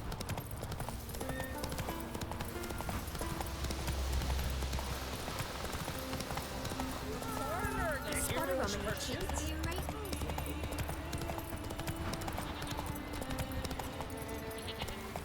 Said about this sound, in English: Коні.